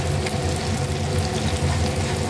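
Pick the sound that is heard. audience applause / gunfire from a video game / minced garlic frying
minced garlic frying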